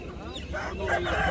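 Native country chickens at an Aseel chicken market, clucking and crowing amid a noisy crowd, fairly faint and mixed with background market chatter.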